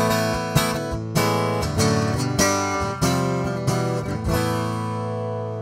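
Cole Clark acoustic guitar with its internal microphone blended in, strummed chords in a steady rhythm with crisp attacks and ringing sustain, close and clear with no talking.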